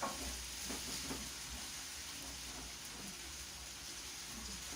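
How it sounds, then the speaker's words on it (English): Goat heart for mutura cooks in a pan with a soft, continuous sizzle and hiss, quiet and even throughout, with a faint stir near the start and no voices. "we're going to just let our heart cook for 15 minutes"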